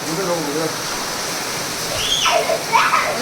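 Roaring wind-driven rain fills the background while people, including a child, talk and call out over it.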